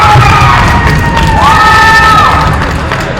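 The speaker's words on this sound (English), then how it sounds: "that's all that yelling and clapping" Wrestling fans at a school sectionals match yell, cheer and clap in a loud, sustained crowd roar filling the gym, with shrill whistles and whoops rising above it.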